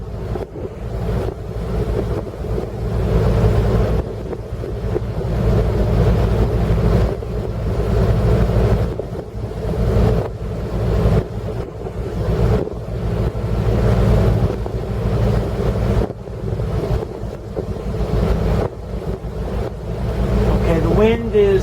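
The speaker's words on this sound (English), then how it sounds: "You might hear my shifters moving back and forth, and the engines change RPMs and the boat change direction." Twin boat engines rumble steadily on a river lock approach between Clifton, Tennessee and Joe Wheeler, their pitch shifting as the shifters move and the boat maneuvers, with heavy wind buffeting the microphone throughout.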